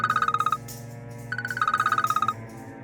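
A telephone rings in two bursts of rapid electronic trilling pulses separated by a short pause, fairly loud and with no talking, in an Urdu-dubbed drama scene.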